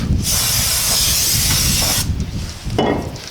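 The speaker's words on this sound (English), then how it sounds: "next you want to take your brake cleaner. Go ahead and just spray off." A loud aerosol can of brake cleaner hisses in a sustained burst for about two seconds onto a rear brake rotor of a Chevrolet Impala, stops, then a shorter spray follows, close by.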